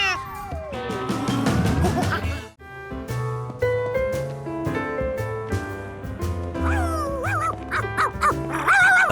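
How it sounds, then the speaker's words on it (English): Cartoon dog bouncing down a sidewalk, carried by bouncy orchestral music with sliding, boinging tones and playful accents, loud and busy throughout. "A dog bouncing down the sidewalk"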